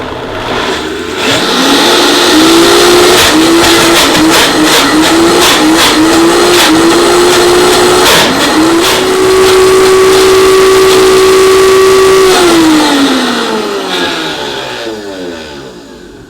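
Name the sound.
blender blending avocado cilantro hummus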